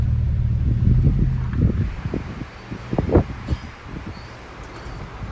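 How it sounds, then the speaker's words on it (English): Gusty wind in snowy Big Bear, California buffets the microphone in low, uneven rumbles, swelling and easing with a few sharper gusts, close and fairly loud. "Definitely starting to get windy quickly."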